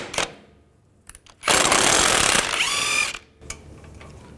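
A ratchet fitted with an 18mm socket spins off ball joint nuts on a 2010-2017 Chevrolet Equinox, a quick, close, buzzing burst of clicking lasting about a second and a half between short metallic knocks.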